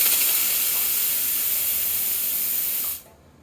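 A coffee machine boiler venting its steam pressure, a loud, close, steady hiss that cuts off abruptly near the end, no talking.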